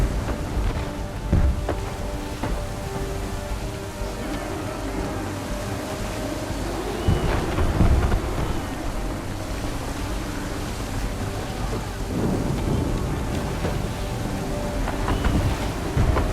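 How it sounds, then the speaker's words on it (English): Thunderstorm at sea in Assassin's Creed III, with a steady wash of heavy rain and wind over the ship and deep thunder rumbles rolling in around the middle and near the end, loud and continuous. "There's a storm coming, Captain. Feels like a big one."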